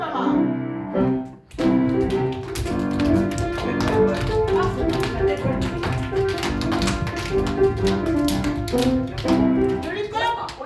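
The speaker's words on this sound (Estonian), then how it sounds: "nüüd hakkame plaksuga hüppama." Children clap in rhythm while jumping at a festive school celebration, with steady, repeated claps and thumps layered over upbeat music, and an adult voice speaking along.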